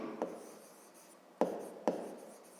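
A hand writes a math expression on paper, producing soft scratchy pen strokes with a few sharper taps, close and quiet, without talk.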